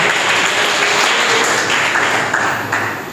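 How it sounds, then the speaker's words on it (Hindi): A church congregation claps in thanksgiving, a dense, loud wash of applause that holds steady and then eases slightly toward the end. "प्रभु का तालियां बजाकर धन्यवाद करेंगे।"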